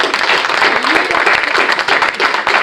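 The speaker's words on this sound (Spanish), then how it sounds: "Le damos una ofrenda de aplausos al Señor." Church congregation applauding together during a worship service, a dense, loud burst of clapping that fills the space with steady rhythm and no pause.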